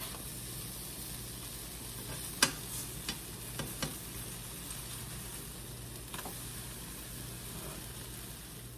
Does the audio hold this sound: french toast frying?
yes